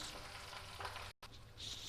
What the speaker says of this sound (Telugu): ఉల్లిపాయ ముక్కలు వేగిపోయినాయి కదా,